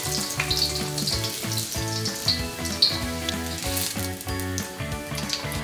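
Meatballs sizzling and frying in a wok, a steady close crackle throughout with faint scraping and clinks of the meat being poked, no voices.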